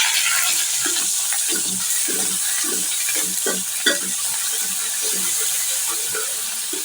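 Ginger garlic paste sizzles in a pot of fried onions, with rhythmic scraping and stirring strokes over a steady frying hiss, close and fairly loud, for a fish curry with sponge gourd.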